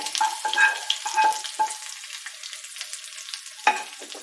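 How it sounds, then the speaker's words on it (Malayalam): A hot mustard-seed tempering is poured into a papaya pachadi. It gives a sharp close sizzle with crackling bursts that quickly settle into softer fizzing, and one more brief flare near the end. "കടുക് താളിച്ചത് നമുക്ക് ഈ പച്ചടിക്കകത്തോട്ട് ഒഴിക്കാം."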